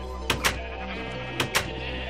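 Two pairs of short bleats from sheep in the Minecraft video game, each a quick double call, fairly close and clear over a steady low background hum.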